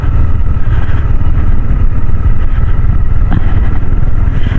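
A motorcycle descends slowly down a rough, rocky mountain road in the hills of Seferihisar, its engine a steady, loud, close rumble that runs unbroken throughout.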